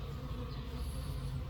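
Honey bees buzzing at an open hive during a colony inspection, a close, continuous low drone without pauses, with no voices.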